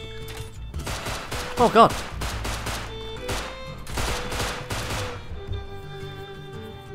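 Gunfire in the survival video game Rust, several rapid bursts and single shots cracking in a fusillade, with a man's brief startled exclamation in the middle.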